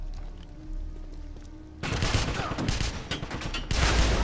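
Rapid enemy gunfire bursts out in the Wolfenstein video game, a dense, loud barrage of overlapping shots that starts abruptly after a quiet stretch and swells again toward the end.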